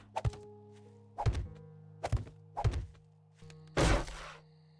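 Several sharp mechanical thunks from a nail gun in the video game 7 Days to Die, fired in irregular single shots, close and fairly loud, followed by a heavier, broader burst at the end.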